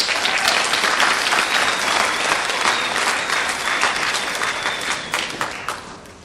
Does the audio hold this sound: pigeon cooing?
no